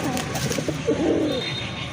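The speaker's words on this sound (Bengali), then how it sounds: "ওই যে ওইটা হচ্ছে নর কবুতর মাশাল্লাহ ডাকতেছে" A male pigeon at a market stall coos once in a short, soft throaty phrase, close by over a steady background murmur.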